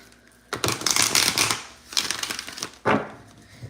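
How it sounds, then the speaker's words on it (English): Tarot cards are riffled and shuffled in a few quick bursts, a crisp papery flutter close by, with a short pause between shuffles. "Let's do a shuffle."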